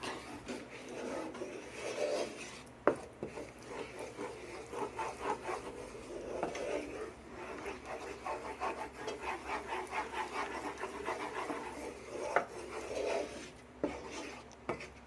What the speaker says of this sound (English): Making a roux, making it so that the sauce can be thick.